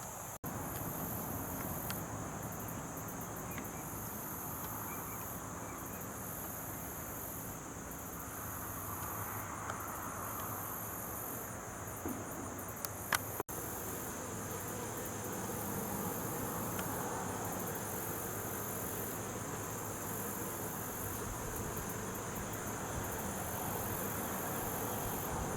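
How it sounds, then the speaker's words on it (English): Bees buzz faintly outdoors on a fine day, a soft, continuous insect drone with occasional passes and a distant engine hum in the background. "Let's have a look at the bees and see what they're doing."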